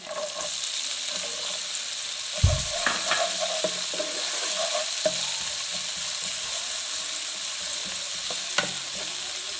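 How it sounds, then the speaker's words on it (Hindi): Vegetable manchurian balls and onions frying in a pan over low heat, with a steady close sizzle throughout, broken by occasional scrapes and clinks of stirring. "धीमी भी आंच पर ये हमारे जो है बॉल भी फ्राई हो रहे हैं।"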